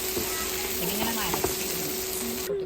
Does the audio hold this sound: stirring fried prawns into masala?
yes